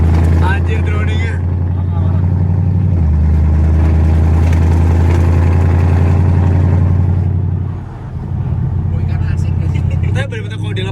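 A modified motorbike's engine drones loud and close in a deep, steady rumble, with a brief dip and a rev near the end; people talk nearby.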